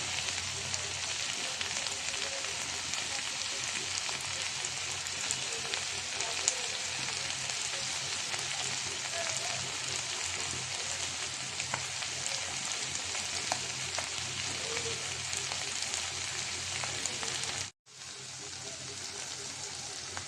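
Small mixed fish frying in hot oil until crisp, a steady dense sizzle that runs loud and unbroken, then cuts out abruptly near the end before resuming.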